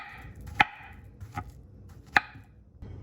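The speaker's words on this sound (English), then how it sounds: "you don't actually have to cut the banana" A knife cuts through a banana on a cutting board for a smoothie, giving a few sharp, separate chops spaced about a second apart, close and clear over a quiet background.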